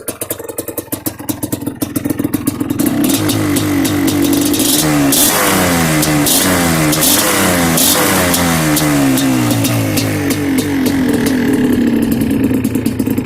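A Yamaha Blaster ATV engine, just cold-started, sputters, then catches and settles into a steady, buzzy two-stroke idle with uneven revving, close and loud throughout.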